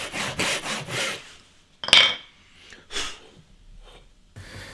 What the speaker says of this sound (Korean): 톱대를 이용한 톱질은 필수사항입니다.